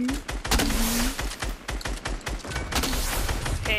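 A flare gun fired in Fortnite, amid a dense clatter of rapid gunfire and crackling bursts that runs loud throughout the short stretch, with a few tonal whistles between shots.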